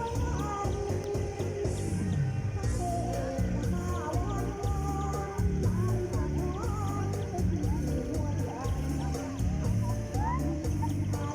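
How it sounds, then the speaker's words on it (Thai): Chickens or other fowl cluck and call at a riverside beach park in Ubon Ratchathani, scattered irregular calls mixed into a busy crowd with people talking and steady background noise. "ไอ้เบิ้งไก่ๆครับ"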